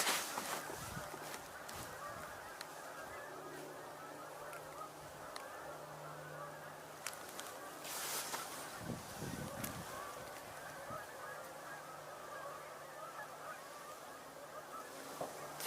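Geese and ducks honk at a distance outdoors in scattered bursts, with a denser flurry of calls near the middle, over a faint steady ambient background.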